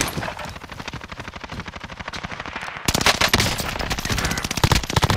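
Rapid automatic gunfire in Warzone, a dense, continuous stream of close, loud shots that grows even louder and harsher partway through.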